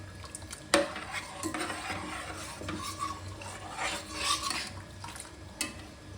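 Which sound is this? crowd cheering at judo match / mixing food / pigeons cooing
mixing food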